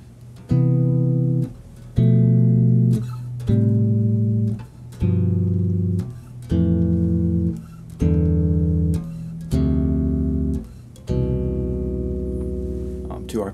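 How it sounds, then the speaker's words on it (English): Bass guitar plays a descending sequence of chord arpeggios, including a flat-five chord, each note ringing clearly in a steady rhythm with short gaps between chords, loud and close with no voices. "Descending, and we'll throw in the flat 5 chord just for fun."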